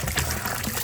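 Water gushing out of a hand pump, a brief close splashing flow, continuous and fairly loud.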